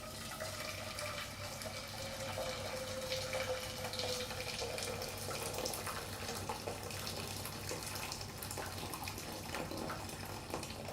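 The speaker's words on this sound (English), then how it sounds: "just dump the entire kettle in here." Water pours from a kettle onto the stove in a home kitchen, a steady splashing stream with a slowly falling tone that runs for several seconds, fairly close and moderately loud, with no talk.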